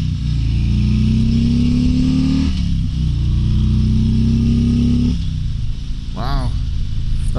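A stock 2022 Harley-Davidson Tri Glide Ultra trike engine roars continuously with a deep exhaust rumble, revving up twice and dropping pitch as it shifts, heard up close.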